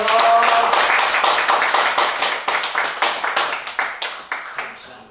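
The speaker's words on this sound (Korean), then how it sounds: "우리 함께 감사의 박수를 하나님께 올려드립니다." A church congregation at a Korean worship service claps in thanks to God, starting as dense, loud applause that settles into a steady rhythmic beat of single claps and gradually fades.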